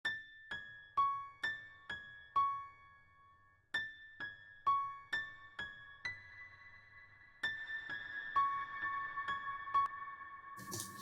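Piano in a modern hip hop mix, soaked in a huge large-room reverb, plays sparse bell-like notes and chords that ring out with long tails, alone and fairly soft.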